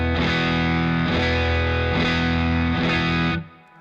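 An electric guitar played through a Behringer Klon Centaur clone overdrive pedal: four sustained, gritty overdriven chords struck about once a second, loud and close, ringing out and then cut off.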